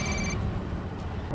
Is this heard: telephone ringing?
yes